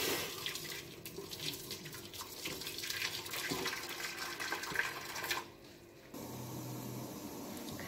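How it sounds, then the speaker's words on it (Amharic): Boiling water pours steadily into a cooking pot while Ethiopian bula firfir is being prepared, a continuous close splashing stream that stops briefly and then resumes. "የፈላ ውሃችንን ድስታችን ውስጥ እንጨምራለን።"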